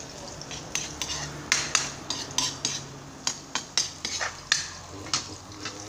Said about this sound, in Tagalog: Pupulahin lang po natin yung bawang at saka luya.